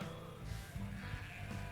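Sheep bleats from the video game Ark, a sheep grinder mod setting: several short nasal bleats overlap in quick succession, moderately loud over a steady game background hum, with no talking.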